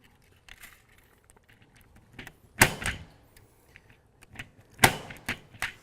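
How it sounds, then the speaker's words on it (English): Wire is seated and trimmed on a 66 telephone punch-down block by a punch-down tool, with two sharp, loud impact snaps among softer scattered clicks and rustles of handling. "So I'm going to finish this punch down, and again, my cut is downward, okay?"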